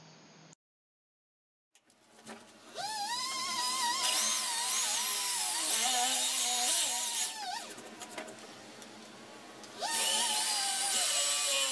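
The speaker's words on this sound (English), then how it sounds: "Then I drilled the holes for the bearings." A drill bores holes for bearings in wood, giving a loud, whining, high-pitched drone up close that wavers in pitch, dips briefly, then surges again.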